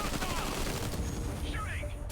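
Gunfire in a video game, a dense crackle of rapid shots under game noise and a voice.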